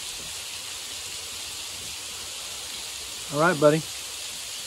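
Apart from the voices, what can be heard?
waterfall by Lake Cumberland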